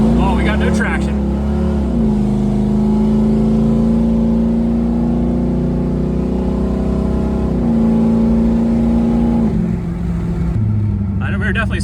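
6.0L engine-swapped Toyota Prius accelerating with its tires spinning for lack of traction, a loud, steady engine drone rising in pitch and then shifting, heard close and continuous.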